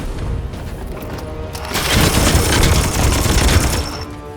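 Gunfire in Warhammer 40,000: Chaos Gate - Daemonhunters, a dense volley of rapid shots swelling loud at mid-clip over a rumbling low boom, then tapering slightly toward the end.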